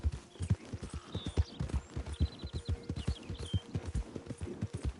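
Horse hooves galloping in the video game Red Dead Redemption 2, a steady, rhythmic clip-clop of close, thudding footfalls running throughout, with faint bird chirps high above.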